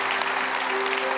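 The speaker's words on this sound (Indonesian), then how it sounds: "Tepuk tangan buat mereka berdua." Brief burst of studio audience applause on an Indonesian television show, dense clapping with a faint steady tone underneath.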